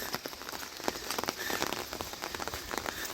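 Rain falls steadily on a forest trail on Gayasan's Sori-gil path, a dense, even patter of drops, close and constant, with no voices.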